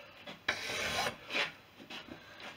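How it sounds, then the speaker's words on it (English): A hand file works a model airplane aileron bell crank clamped in a vise, for a Fisher Youngster V, chalked file. It makes several short, irregular rasping strokes, close and fairly quiet, with no talking. "and drive the file."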